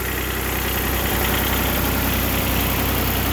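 A car engine idles steadily after a cold start on a November morning, a constant close rumble with a smooth, even drone and no revving throughout.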